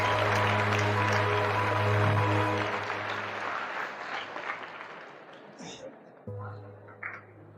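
An audience at a motivational seminar breaks into loud applause, strong at first and then thinning out, while a voice over a humming sound system talks through the fading clapping.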